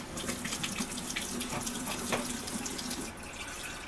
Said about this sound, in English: We're going to take a jar and I'm going to fill it with tap water.